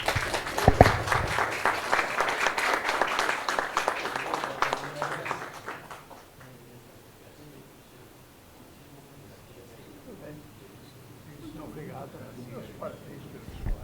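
A standing ovation at an informal meeting, a room of people on their feet applauding loudly for about six seconds before the clapping fades into quiet murmurs.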